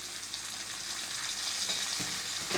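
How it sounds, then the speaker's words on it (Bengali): Potatoes and carrots frying in a pan with cashews and raisins just added, giving a steady, loud sizzle with a faint stirring scrape near the end and no talking. "আমার আলু আর গাজর ভাজা হয়ে গেছে। এবারে এর মধ্যে আমি কাজু আর কিশমিশ দিয়ে দিলাম।"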